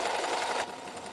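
A sewing machine backstitching a fabric scrunchie, running back and forth in a steady, close, continuous whir that drops in level partway through as the stitching direction changes.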